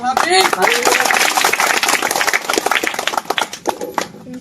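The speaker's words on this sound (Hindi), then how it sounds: "तालियां बजाइएगा" A school parent-teacher meeting where a speaker's voice gives way to a crowd of parents and children clapping, brisk and close, with the claps growing sparse and scattered near the end.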